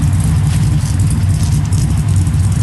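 A Mazda RX7 rotary engine idles nearby with a steady, rough, low burble, loud and unbroken throughout.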